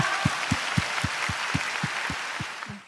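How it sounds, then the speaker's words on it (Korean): Church congregation applause at the close of a Bible recitation contest, a steady wash of many hands with a regular low thumping beat running through it, fairly distant and continuous until it tapers at the end. "이 모든 대회를 주관하신 우리 하나님께 영광의 박수 올려드리고 마무리하겠습니다."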